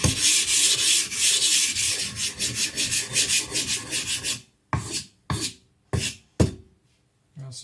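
A Shibata Kotetsu gyuto is rubbed on a Shapton Pro 220 whetstone to work up mud, first in fast rhythmic strokes, then in four separate scraping passes with gaps between them, close and clear.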